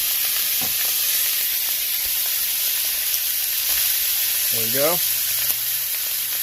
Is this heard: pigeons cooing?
no